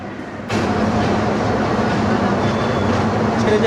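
Rangpur Express train pulling out of Ibrahimabad railway station in Tangail district, a dense steady rumble of wheels and carriage noise surging in after a brief quieter moment, heard close from inside.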